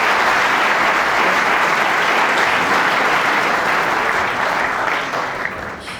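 Sustained clapping from a big crowd at the World Snooker Championship fills the arena, loud and even at first, then thinning and fading slightly toward the end.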